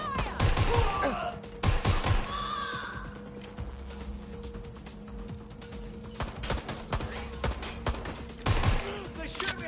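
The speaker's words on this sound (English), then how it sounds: "They're shooting at us" Bursts of gunfire in the video game GTA on PS4, loud volleys and rapid shots clustered at the start, middle and end of the stretch, with quieter gaps and faint game voices in between.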